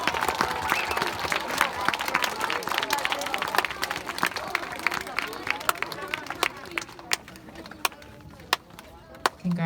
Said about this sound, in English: Let's give all of our December Students of the Month a round of applause.